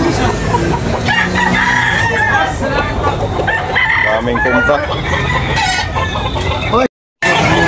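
Chickens and roosters fill a busy chicken market in Tabunok, Talisay, with loud continuous clucking and repeated crowing close by, while people talk over the flock throughout.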